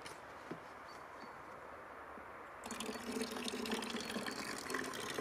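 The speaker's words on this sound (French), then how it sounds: "je vais essayer de te montrer quand même à quelle vitesse à peu près l'eau coule. Sur le premier niveau de filtration." Rainwater runs quickly through the first filtration stage of a homemade gravity filter, a steady trickling and pouring flow that grows louder and fuller about halfway through, with no voices.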